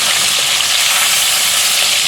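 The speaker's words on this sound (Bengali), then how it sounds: "লাল করে একটু ভেজে নেব মাছটা, একটু লাল লাল করে ভেজে নেব" Rohu fish pieces fry in hot oil, giving a loud, close, steady sizzle with no pauses.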